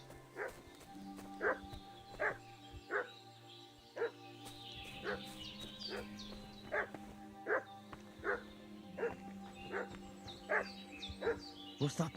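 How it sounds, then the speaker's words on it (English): A dog in the video game Kingdom Come: Deliverance II barks repeatedly in a steady rhythm of sharp, moderately distant yelps over a low background hum, with about a dozen barks spread evenly across the scene. "What's that dog making such a fuss about?"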